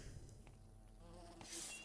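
Wasps buzzing in the fantasy game Fable: Anniversary, a steady insect drone with a louder close pass near the end, heard alone without talk.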